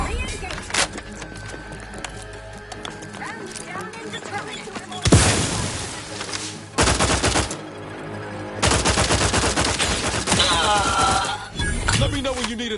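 Gunfire in The Outer Worlds 2, bursts of rapid shots and heavy blasts breaking out in several loud stretches between quieter gaps, with in-game voices and effects mixed in.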